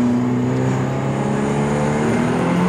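A BMW F30 328i engine revs hard and steadily while held on the brakes for a brake boost launch, a loud, continuous droning roar close by with no talking over it.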